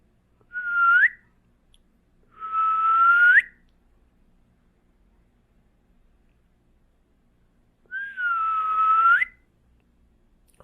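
A person whistles in imitation of a thin, flimsy bird call: three separate rising whistled notes, each about a second long with pauses between, close and clear.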